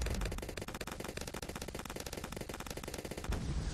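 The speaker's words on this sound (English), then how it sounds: "I think I have a fire attack shooter because that's the sound that it makes" Rapid, dense bursts of shooting from a Bloons TD 6 tower, a fire attack shooter, rattle on steadily like machine-gun fire for several seconds with no talking.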